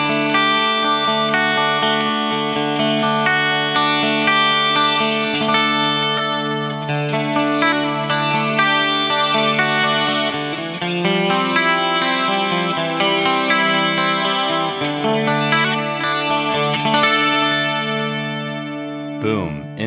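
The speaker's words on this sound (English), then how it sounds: "we will instantly move into a beautiful swimming chorus" Electric guitar played through a very slow, swimming chorus effect on a Fractal AM4, with chords and arpeggios sustained with lush, wavering modulation for twenty seconds, loud and continuous with no talking.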